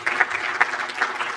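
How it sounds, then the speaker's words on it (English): Audience applause at Adobe Summit London, a steady burst of clapping from a conference crowd that fills the short moment, with slightly stronger claps standing out at intervals. "Another round of applause for Annmarie, please."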